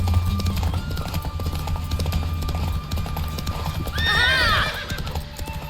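Horse hooves clip-clop steadily through a race in The Witcher 3, with a loud whinny rising near the end over constant game ambience.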